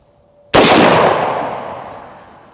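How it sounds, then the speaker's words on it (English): .458 SOCOM round fired at an AR500 steel body armor plate outdoors: a single very loud, sharp gunshot with an immediate impact crack, followed by a long fading echo. "This is a 458 SOCOM, one of the biggest, scariest rounds out there. It's not really meant to penetrate, but it's just fun to shoot."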